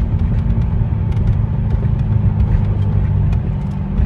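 A custom 2009 Chevrolet Corvette C6 rumbles with a deep, loud, steady engine note from close by. The low idle-like burble holds evenly for several seconds with no voices.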